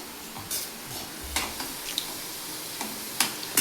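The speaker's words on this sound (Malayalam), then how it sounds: "ഓയിലിൽ കിടന്ന് തിളച്ചു മറിയുന്ന ചക്ക പീസുകൾ" Jackfruit pieces fry in boiling oil, giving a faint, steady sizzle with a few soft scraping stirs and light clicks throughout, no voices.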